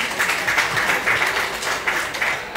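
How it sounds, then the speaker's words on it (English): Audience applause for panelists at a discussion event, a steady wash of many hands clapping at moderate level throughout, with no talk over it. "So encourage your fellow members to clap for the panelists."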